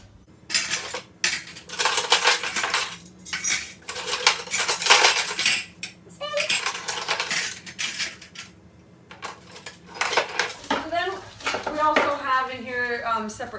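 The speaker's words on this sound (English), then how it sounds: "I'll put the knives and steak knives into the same one." Forks, knives and steak knives clatter and clink as they are sorted into kitchen drawer organisers, with bursts of close metallic jangling and a person talking between the clatters.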